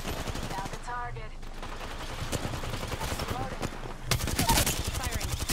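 Rapid automatic gunfire rattles nonstop in an Apex Legends match, dense bursts of shots that swell louder near the end, with a player talking over the firefight.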